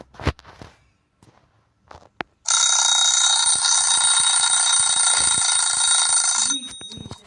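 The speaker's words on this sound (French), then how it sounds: "Pourquoi toujours le réveil?" An alarm clock rings loudly and continuously for about four seconds, a bright metallic bell that cuts off abruptly, after a few footsteps and soft sounds of people moving nearby.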